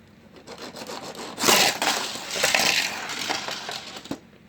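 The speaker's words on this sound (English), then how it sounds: "Wow, Elliott's crashed out" A race car crashes in a NASCAR racing video game at Dover, a Chevrolet Camaro grinding and scraping through crunching, rubbing impact noise that swells and fades over several seconds with no talk.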